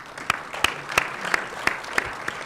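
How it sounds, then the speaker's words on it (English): Sparse, scattered clapping from a small audience applauding a conference panel on lean space technology, sharp individual claps spaced roughly evenly over a quiet room. "a big round of applause to our panels"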